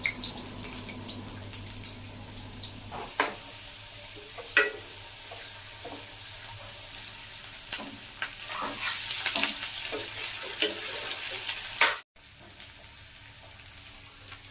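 Potatoes and onions for biryani fry steadily in a pan, a continuous sizzle broken by repeated stirring scrapes and clacks, fairly close, briefly cutting out near the end before the frying noise resumes.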